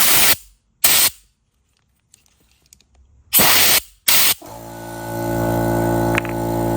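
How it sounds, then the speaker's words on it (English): In a workshop during Toyota engine timing chain work, an air compressor starts and runs with a loud steady hum after several short bursts of hissing air. "Sorry about the air compressor, guys, but if you're having problems unlocking this thing,"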